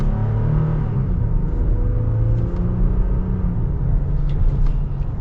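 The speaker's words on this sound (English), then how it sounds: "We are going to be getting our acceleration here with the Tacoma" A 2021 Toyota Tacoma SR5 V6 pickup accelerates in manual mode, heard from inside the cab as a steady, loud engine drone rising in pitch, with one brief dip at a shift and a low road rumble underneath.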